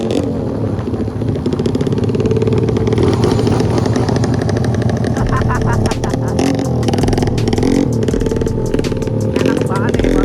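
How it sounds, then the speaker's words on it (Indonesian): A motorcycle ridden fast and recklessly at night with no lights, its engine roaring and revving loudly and continuously up close, with wind rush, rattling clatter, and a voice talking over it. "aku bawa motornya agak ugal-ugalan"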